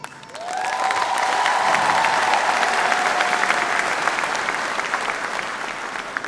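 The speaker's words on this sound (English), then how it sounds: "making a big round of applause for yourselves" A comedy show audience breaks into sustained applause, dense clapping rising quickly and holding steady before easing slightly toward the end.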